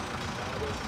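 A New Holland T7030 tractor from around 2007 idles at a steady low rumble, a continuous even drone with no distinct revs, fairly quiet and alone.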